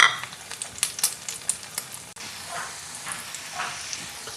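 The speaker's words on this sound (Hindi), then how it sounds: "अंडे में डिप करते हैं और फ्राइंग पैन में डालते हैं।" Egg-dipped chicken shami kababs frying in a pan, a close, steady sizzle with crackling pops and clinks as pieces are placed in the hot oil.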